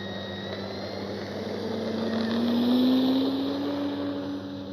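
An E-flite Carbon Z T-28 electric RC warbird lifts off with flaps set, its motor whine rising in pitch and swelling in loudness as it climbs away, alone without talk.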